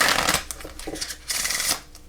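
Tarot cards are shuffled up close in three quick riffling bursts with short pauses between them, and no voice is heard.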